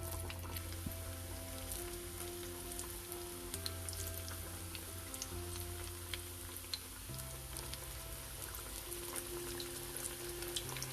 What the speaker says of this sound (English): Now we'll fry them on both the sides till they become crispy and golden brown in color.